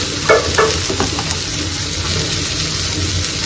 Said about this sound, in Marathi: अजून छानसं परतून घ्यायचंय